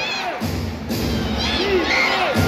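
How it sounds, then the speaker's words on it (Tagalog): Basketball arena crowd at the Chase Center during a Golden State Warriors vs Utah Jazz game, a loud, continuous roar of cheering and whoops from thousands of fans, with scattered voices shouting through it. "Pakita ko lang yung crowd"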